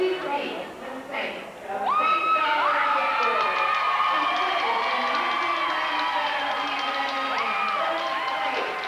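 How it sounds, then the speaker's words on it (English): A cheering section of fans at the 1997 IHSA girls swimming and diving state finals, with a large indoor crowd shouting and whooping continuously and loudly, rising after a quieter opening. "There's the cheering section."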